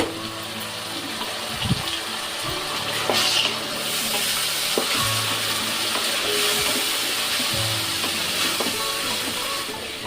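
Ground onion paste frying and being stirred in an oiled pan with green chilli slits, a steady close sizzle with scraping stirs and occasional clatter, no talking.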